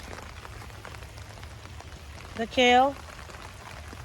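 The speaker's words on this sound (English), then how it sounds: "The rain is here" Rain falls steadily on a container vegetable garden of potted kale and peppers, making a soft, even patter throughout, and a voice briefly speaks over it.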